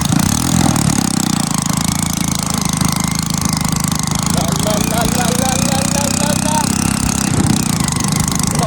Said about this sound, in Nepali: यो चाहिँ हाम्रो नेपालको वान पिस बाइक हो